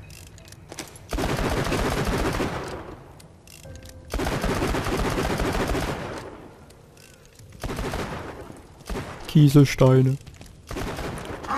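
Bursts of rapid gunfire in the video game Borderlands 2 as a whole magazine is emptied, two long loud volleys separated by pauses, with a voice talking in German between and over them.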